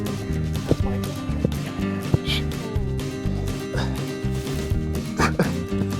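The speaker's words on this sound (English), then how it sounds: "Can't disturb the puppy." A puppy in a garden food forest barks in short yips and whimpers repeatedly over several seconds, close by, with occasional human talk and rustling in the background.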